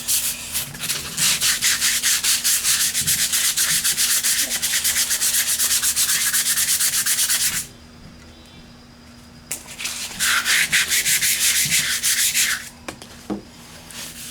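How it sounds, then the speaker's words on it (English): Steady rhythmic rasping of 150-grit sandpaper on dried wood filler on a wooden staircase baluster, continuous for several seconds, pausing briefly, then resuming in short strokes. "we're just going to give it a light sand, and this is 150 paper"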